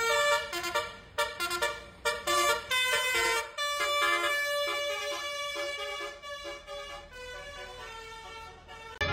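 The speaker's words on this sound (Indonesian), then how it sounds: "terdengar sopir bus tersebut asyik memainkan klakson teloletnya seolah sedang mengadakan pertunjukan musik di jalan" A bus driver plays a telolet horn in front of a row of shops, sounding a series of loud musical tooting notes: quick short blasts at first, then longer sustained tones.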